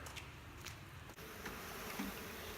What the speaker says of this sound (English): he's dumping out the bees to get them out